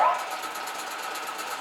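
A metal lathe turns at its slowest 16 RPM setting, giving a steady, moderate mechanical whir with a faint regular pulsing throughout the short stretch.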